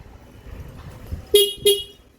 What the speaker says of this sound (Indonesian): keluhannya itu kok klaksonnya itu bunyinya enggak keras ya, ataupun berbeda dari sebelumnya